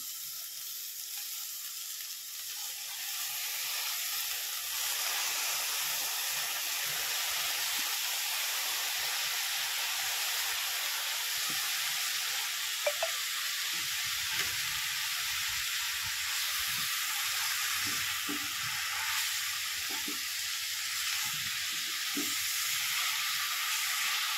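Washed tandalichi bhaji greens go into a hot pan and sizzle loudly and steadily, a close, continuous frying hiss with faint stirring clicks and no talking.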